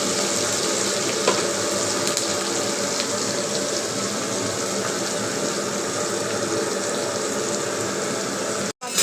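A cooking stove burns with a steady, loud, roaring hiss that holds unbroken for several seconds, broadband and even throughout, with a brief dropout near the end.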